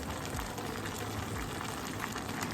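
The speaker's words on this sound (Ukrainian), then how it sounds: "Закипіло кабачки морква, цибулька." Zucchini, carrot and onion come to a boil in a covered pot on the stove, a steady dense bubbling and hissing that runs evenly throughout with no voices.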